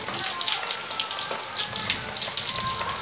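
Raindrops fall steadily during daytime rain, a dense, continuous patter with scattered sharper drips close by, alone with no talking.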